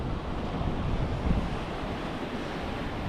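Atlantic Ocean surf washes onto a South Carolina beach as a steady, close roar of breaking waves, mixed with wind buffeting the microphone and no voices.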